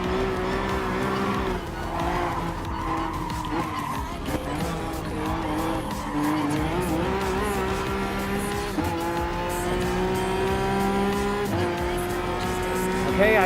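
Racing engine in Gran Turismo Sport drones steadily with rising and falling revs and intermittent tire squeal from a mid-engine Peugeot Vision race car, loud and continuous throughout.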